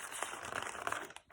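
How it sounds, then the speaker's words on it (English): Thin lined paper pages of an ordinary notebook rustle and crinkle close up, a steady papery crackle with a few sharper flicks, heard alone. "This one this is just a normal notebook. Thin paper. I love the sound of it though, listen."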